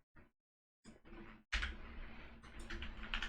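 Computer keys are pressed during 3ds Max modelling work, with a few soft isolated taps followed by a denser run of close, quiet keystrokes and clicks.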